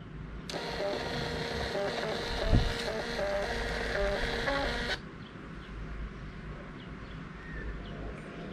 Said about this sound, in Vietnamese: Máy in cũng khá là nhanh nha các bạn.